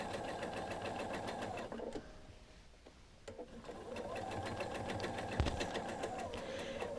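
A sewing machine stitches a quilt's mitered border in steady, rapid runs, with a brief slowdown and pause in the middle before the close, even mechanical whirring resumes at full speed.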